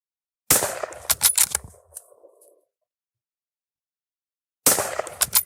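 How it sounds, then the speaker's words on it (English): Shots from a bolt action rifle fired at a target crack out loud and close, a sharp blast with quick echoing decay, then silence before a second loud report at the end. "I'm going to shoot at the upper left target."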